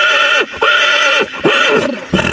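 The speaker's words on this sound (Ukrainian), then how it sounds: "Чує коні." A six-year-old working draft stallion whinnies loudly and close, several repeated neighing calls in quick succession with short breaks between them.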